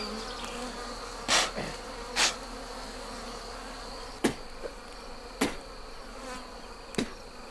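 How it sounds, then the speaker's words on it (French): Wild bees buzz continuously around a smoked nest in Kenya during a honey hunt, a dense insect drone broken by several sharp knocks or clicks. "Malgré la fumée, les abeilles restent vives et défendent leur nid."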